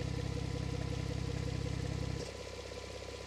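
A Porsche 911 Carrera GTS exhaust idles in loud mode with a deep, throbbing rumble that suddenly drops to a quieter, softer burble partway through.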